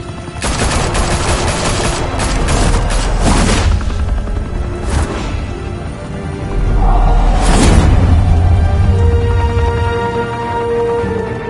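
Gunfire in a Batman Telltale Series action scene, loud bursts of rapid automatic shots and booming impacts in close succession, swelling again after a brief lull, with no voices over it.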